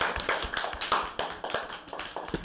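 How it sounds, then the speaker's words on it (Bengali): Children in a classroom clap for a classmate, a brisk run of many small hands slapping together in a fast, uneven patter, close and moderately loud, lasting a couple of seconds with no voices over it. "মিষ্টির জন্য হাততালি দাও জোরে।"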